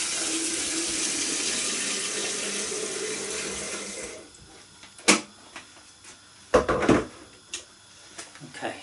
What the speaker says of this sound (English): we need to get the kettle on, because at some point we're going to be adding water to this